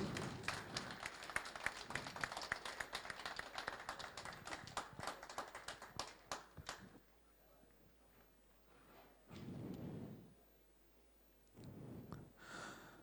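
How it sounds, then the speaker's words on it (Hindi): Audience applause at a gold seminar, a dense burst of clapping that builds loud and then trails off, followed by scattered sparse claps and a few murmured voices. "तालियां बजनी चाहिए सर प्लीज।"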